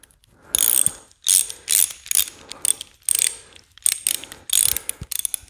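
A ratchet turns a hose clamp screw on a fuel transfer tank hose, giving loud clicking bursts in repeated runs of rapid pawl clicks separated by brief pauses, close by and with no voices.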